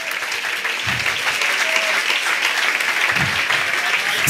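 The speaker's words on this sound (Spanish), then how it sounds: "Dale un aplauso a la gloria de Dios." Church congregation applauding, a dense, steady wash of clapping from many hands filling the room, loud and sustained without a break.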